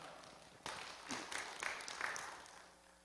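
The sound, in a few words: congregation applauding to welcome the pastor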